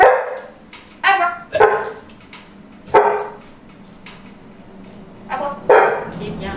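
A dog sitting on command gives several loud, close barks in separate bursts, a few of them higher yips, spaced irregularly over a few seconds with brief quiet gaps between.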